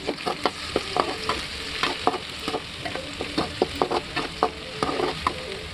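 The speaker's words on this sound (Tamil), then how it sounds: "ஒரு பேன் அடுப்பில் வச்சு சூடானது பச்சை மிளகாவும் பூண்டும் போட்டு ஃபஸ்ட்டு லைட்டாக வதக்கிக்கலாம்" Garlic and green chili sizzle and crackle in a hot pan, with frequent sharp stirring scrapes and pops in a steady rhythm, close up and without talk.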